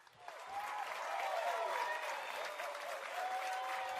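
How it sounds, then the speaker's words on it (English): A crowd cheers and applauds with excited whoops and screams over continuous clapping. The sound is steady and moderately distant, and no one talks over it. "This is the part where the crowd goes nuts."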